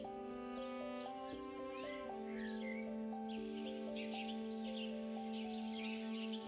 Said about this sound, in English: a bright, tumbling song pouring out from inside the bushes, as if the bird is putting on a concert while staying half hidden